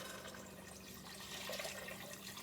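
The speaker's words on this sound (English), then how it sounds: "But I'm going to add my water." Water poured into a soup pot while making soup, a steady broadband splashing rush lasting the whole moment, close and fairly loud with no talk over it.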